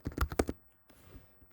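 A computer keyboard clacks in a short burst of about four quick close keystrokes, followed by a quieter lighter tap or two and near silence.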